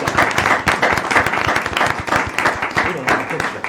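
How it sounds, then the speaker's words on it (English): Applause at a mayor and council meeting, loud rhythmic clapping from a crowd with distinct sharp hand claps sustained evenly across the whole stretch. "Let's give him a round of applause."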